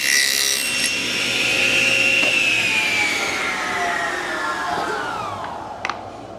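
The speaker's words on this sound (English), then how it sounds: "I'm going to put a little bit of a kerf in there," A hand saw cuts a shallow kerf into a wooden piece for a dovetail marking gauge, giving one steady, continuous rasping stroke up close with no talk.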